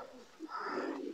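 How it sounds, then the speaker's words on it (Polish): Vos-line racing pigeons coo softly in a loft, a short low burble blended with someone talking close by. "To jest bardzo dobre gołębie"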